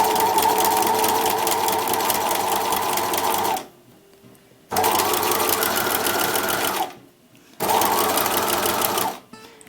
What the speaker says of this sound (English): when you're sewing along, stretch it a little bit